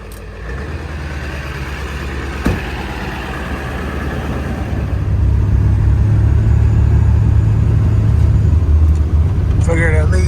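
A 7.3 diesel engine runs at high idle after a cold start in snowy weather, a steady low rumble that grows louder and heavier about halfway through, with faint background clatter.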